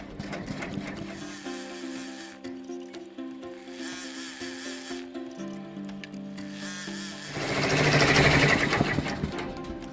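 An embroidery machine runs a tack-down stitch on fabric, producing a steady rapid mechanical whirring and clatter with a tonal hum. The stitching stops briefly, then resumes, before a louder whoosh near the end.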